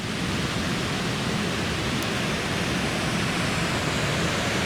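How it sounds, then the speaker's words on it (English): White Cascade, a waterfall on the Tuolumne River in its Grand Canyon, roars as a steady, dense broadband rush that fills the whole span without a break and with no voices. "Ooh, and there's the waterfall."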